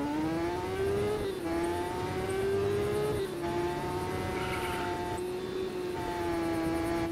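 A motorcycle engine in Just Cause 3 drones loudly and steadily with slight pitch shifts, gameplay sounds mixed in and no speech.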